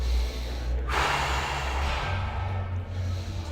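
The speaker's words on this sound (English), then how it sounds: "You have to relax, you have to breathe." Deep breathing during self massage: one long, forceful breath drawn in close to the microphone, then a slow, airy exhale, with no talking.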